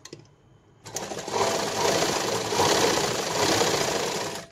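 A sewing machine runs steadily stitching a blouse seam, starting after a short quiet pause and then whirring continuously at close range without any talk.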